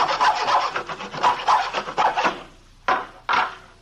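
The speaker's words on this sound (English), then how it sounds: "he was sawing on a piece of plywood with a hacksaw" A hacksaw cuts through a piece of plywood in a rapid run of rasping back-and-forth strokes, close and loud, then pauses before two final separate strokes.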